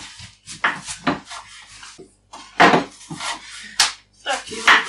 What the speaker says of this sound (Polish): Cebulę sobie kroimy.